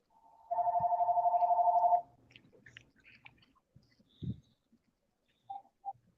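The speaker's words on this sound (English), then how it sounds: "Phone's ringing." A telephone rings once in a steady warbling burst of about a second and a half, loud and close, followed by quieter clicks, a thump and faint background noise.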